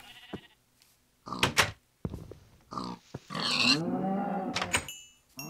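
Minecraft pig and farm animal noises from the video game, several short grunting and bleating calls in separate bursts with a longer drawn-out cry near the end, close and fairly clear with no talking.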